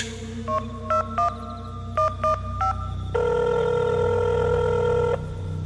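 A telephone in an audio-drama scene gives several short dialing beeps, then a sustained electronic ring tone lasting about two seconds, over a low background hum.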